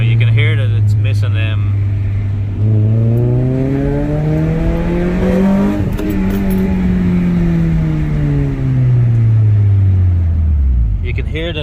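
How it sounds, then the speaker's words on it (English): Engine of a Honda Prelude 2.2 VTEC with a misfire, heard while driving: a steady loud drone that rises and falls in pitch as it runs, with an uneven, skipping quality. "Now you can hear that it's missing"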